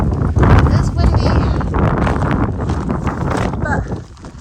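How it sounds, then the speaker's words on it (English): Wind buffets the microphone in a steady roar with low rumbling gusts at a shelter on New Zealand's Old Ghost Road hiking trail, easing slightly toward the end. "It is windy,"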